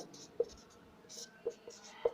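A teacher writing on a classroom board during a chemistry lesson on carbon compounds, with a few sharp taps and scratchy strokes spaced irregularly, faint and close.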